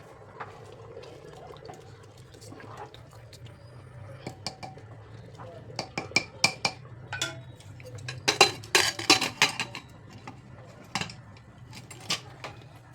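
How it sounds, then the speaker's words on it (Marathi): A pressure cooker lid is fitted onto a cooker of boiling water with semolina for traditional jaggery lapshi, giving a cluster of close metallic clinks and clatters midway over a quiet kitchen background. "कुकरला आता झाकण लावून घ्यायचं आहे"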